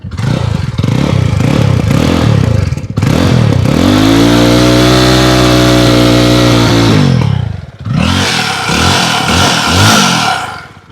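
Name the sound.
Jawa 42 FJ motorcycle engine starting and revving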